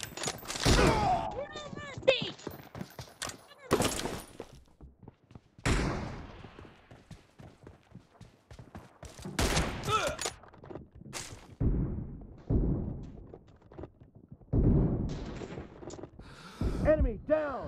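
Gunfire from a shooting video game comes in scattered sharp shots and short volleys, mixed with thuds and quick in-game effects, while a person talks over the action.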